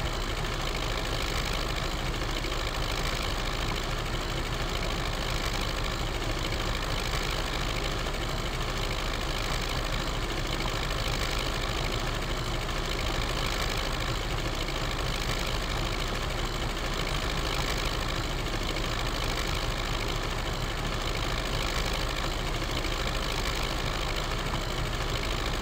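An MTZ-82 tractor engine runs steadily in Farming Simulator 19, a loud continuous diesel drone with a knocking rumble that holds unchanged throughout.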